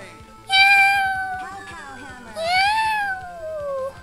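A summoned kitten in the video game Tales of Phantasia gives two drawn-out, high meows, each sliding in pitch, over a soft rhythmic game backing.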